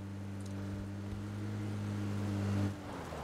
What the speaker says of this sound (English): Sounds like we got a car approaching.